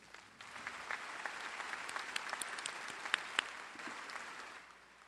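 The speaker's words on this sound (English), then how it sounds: "A round of applause for these graduates" A large audience at a university commencement ceremony claps steadily for graduates, with a few sharper individual claps standing out from the continuous applause before it tapers off.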